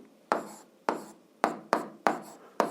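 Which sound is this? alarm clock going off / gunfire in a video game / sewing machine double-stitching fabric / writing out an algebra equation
writing out an algebra equation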